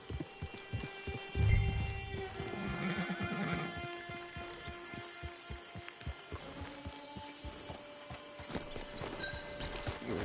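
Horse hooves clip-clop in a steady rhythm in Red Dead Online while a horse whinnies loudly near the start, over faint ambient music.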